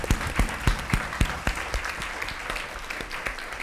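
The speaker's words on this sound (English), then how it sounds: "please thank our panelists with a round of applause" Scattered audience applause for panelists at a democracy forum, with distinct individual claps standing out at first, then thinning into lighter, quieter clapping.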